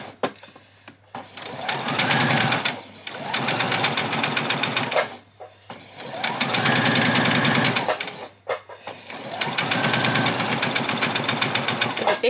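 A sewing machine runs a long gathering stitch with no back stitch on apron fabric. The motor whirs loud and close in three sustained runs, each a few seconds long, broken by brief pauses.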